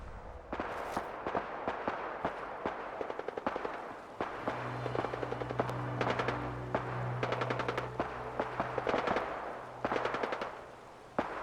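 Bursts of automatic and single gunfire crackle at a distance in Fallout 4, sharp volleys recurring irregularly over a low humming ambient bed, with a brief pause before more shots.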